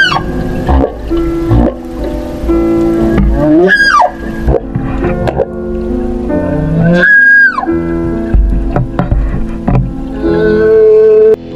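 An 80-foot fin whale gives long, drawn-out moaning calls, some sliding in pitch, loud and close over a dense rumbling background, with several separate calls.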